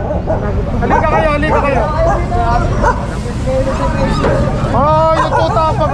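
Dogs, including a puppy, bark and yip loudly and close by during a street clearing operation, with whimpers mixed in. The barking comes in repeated bursts over a babble of people talking.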